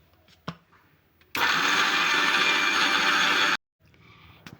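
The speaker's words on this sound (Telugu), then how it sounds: "ఈ 2 మిక్సీ పట్టేసుకోవాలి" A kitchen mixer grinder whirs loudly and steadily for about two seconds while grinding Balamrutham flour with sugar into powder, starting and stopping abruptly, with quiet handling clicks before and after.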